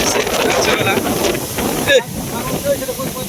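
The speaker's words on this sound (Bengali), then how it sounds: "হঠাৎ করে বেশি বাতাস চলে" Strong stormy wind blows at night in a steady, loud roaring hiss with a sharp gust near the middle, buffeting the microphone.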